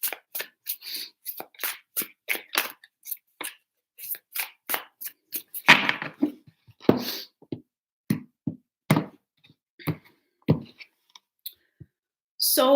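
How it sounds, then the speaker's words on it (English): Tarot cards being shuffled three times make a string of crisp, close clicking riffles in irregular bursts with short gaps, and no voices. "Three shuffles."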